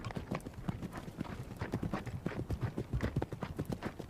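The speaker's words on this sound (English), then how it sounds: "the Asiatic wild ass, a member of the horse family, to this day still untamed by humans." Hooves of an Asiatic wild ass, a wild member of the horse family, clip-clop in a steady, brisk rhythm on hard desert ground, close and clear with no talking.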